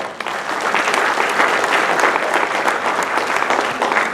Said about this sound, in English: please join me in giving him a big applause